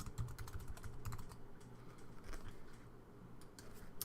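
Steady clicking of typing on a computer keyboard while entering class details into an online form, quick irregular keystrokes at moderate level over a faint room hum, with no talk.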